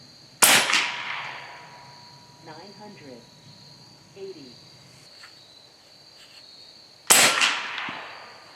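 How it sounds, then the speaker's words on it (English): Two sharp cracks from an AEA Challenger PRO .35 caliber long-barrel PCP air rifle firing pellets, several seconds apart, each a loud close snap with a short decaying tail, over a steady outdoor insect chirr with faint sounds between shots. "it was shooting those pellets at 980 feet per second"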